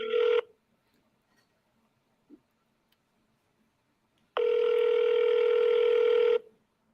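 A telephone call being dialed: a short tone burst, then silence with a faint click, then a steady ringback tone lasting about two seconds, loud and clear with no talking.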